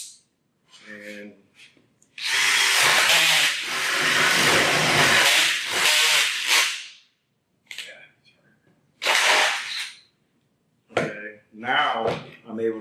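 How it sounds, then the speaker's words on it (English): Loud bursts of a Sawzall reciprocating saw cutting wood, rough buzzing strokes in several runs separated by pauses, with a voice speaking briefly between cuts. "I'm able to get my Sawzall down inside and able to go ahead and cut"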